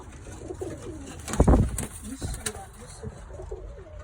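Pigeons coo softly and repeatedly at close range, with a louder burst of fluttering and cooing in the middle against a busy outdoor background.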